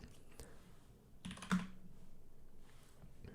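Keyboard typing while writing code at a computer, a few scattered soft key clicks with a brief louder cluster midway, quiet and close, with no talking.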